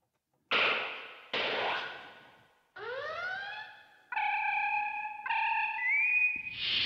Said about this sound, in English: there's some sound effects from Star Trek, the original series